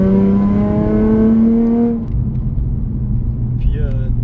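A Nissan 350Z sports car engine revs up with a rising tone for about two seconds, then drops back to a low, rumbling idle, with a voice heard near it.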